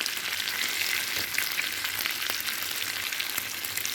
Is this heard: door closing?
no